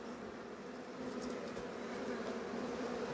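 Bees swarm around a honey nest tucked in a rock crevice, producing a continuous dense buzzing drone that stays steady and moderately close, with no talk over it.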